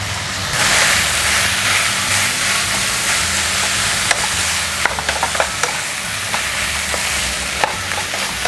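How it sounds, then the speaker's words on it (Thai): Rice stir-frying in a wok with green curry paste for green chicken curry fried rice: a loud continuous sizzle and hiss with scraping stir strokes and small clacks near the end, close and without talk. "เราผัดข้าวให้มันเข้ากับเครื่องแกงก่อนนะคะค่อยปรุงเครื่องค่ะ"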